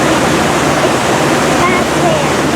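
Steady rushing of water alongside a tour boat on Lake Superior, Wisconsin, a loud continuous broadband wash close by with no clear breaks.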